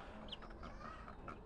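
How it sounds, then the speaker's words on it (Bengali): Free-range desi chickens and Tiger hens on a small farm give a few soft clucks over quiet background noise, faint and slightly distant, with no voices. "আর এই যে দেশি মুরগিগুলো একদম ডিমের থেকে ফুটছে"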